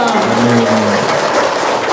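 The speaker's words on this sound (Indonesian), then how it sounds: "Tepuk tangan dong." An audience bursts into applause at a talk, a dense wash of clapping that runs steadily through the short stretch with tonal sounds mixed underneath.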